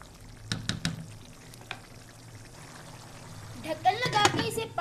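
Minced meat with chilies, for a keema with peas and potatoes, stirred in a cooking pot: a few sharp utensil clacks against the pot, then a rising sizzle and scraping as the mixture is turned, fairly close.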